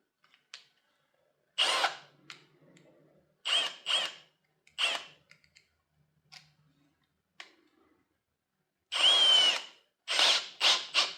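A power drill whirs in short separate bursts, some quick and some longer, with quiet pauses between them and no talking.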